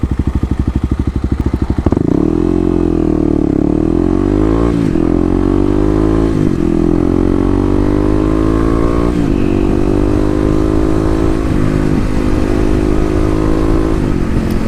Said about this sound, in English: we're gonna race here against this BMW. I think I could take him off the line with the torque